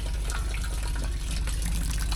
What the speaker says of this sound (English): Out here caught in the rain, about to ruin all my equipment. But we over here catching us a little bit of water.